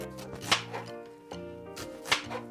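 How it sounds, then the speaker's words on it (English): Knife chopping two onions on a cutting board for a meatball sauce, with steady rhythmic chops and two sharper, louder strikes, heard close over faint background music. "Okay, so we're just chopping up 2 onions."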